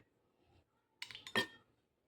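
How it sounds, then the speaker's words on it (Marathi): Three or four ice cubes dropped into a glass of watermelon sharbat, a quick cluster of bright clinks and knocks in an otherwise quiet moment. "तीन ते चार खडी मी बर्फाचे घालत आहे त्याच्यामध्ये"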